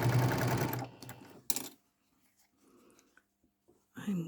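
A sewing machine stitches a small quilt piece, a loud rapid mechanical whir that stops after about a second, then a short sharp burst and near silence before the motor picks up again at the end.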